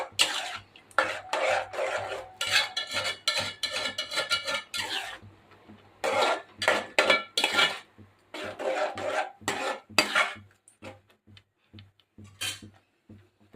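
Beetroot already cooked in milk is stirred with sugar in a pan for halwa. Bursts of gritty scraping and rubbing against the pan come in uneven strokes with short pauses, close and fairly loud, with no talking.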